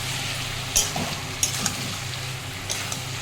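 Cucumber and shrimp curry with turmeric and spices sautéing in a pan, a steady broad sizzle with a few sharp clinks of a utensil against the pan, close and moderately loud.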